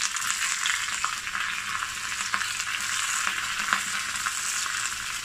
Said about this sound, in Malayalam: നന്നായിട്ടൊന്ന് ഇങ്ങനെ പിടിച്ച് ഇളക്കി ഇതിലേക്ക് നമുക്കിനി ഒരു കതിർപ്പ് വേപ്പില ചേർത്ത് കൊടുക്കാം.